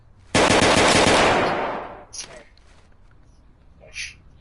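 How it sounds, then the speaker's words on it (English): A pistol fires at a shooting range, opening with one very loud, close crack that rings out and slowly decays, followed by fainter knocks and brief talk. "We're going to use your pistol."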